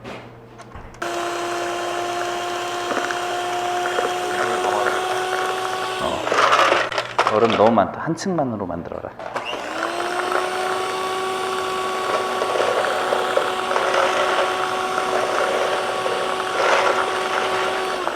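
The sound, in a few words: hand mixer whipping cream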